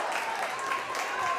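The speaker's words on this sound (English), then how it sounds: "Big round of applause for him behind the plate." Crowd applause at a college baseball game between Bethune-Cookman and FAMU, a steady broad wash of clapping from the stands that holds throughout.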